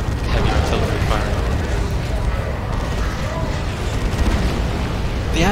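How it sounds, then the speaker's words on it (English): Heavy artillery fire and a tank battle rumble on all around in Dawn of War II: Retribution, a steady, dense wall of booms and mechanical clatter with no pause. "All this like tank battle is going on all around. Heavy artillery fire."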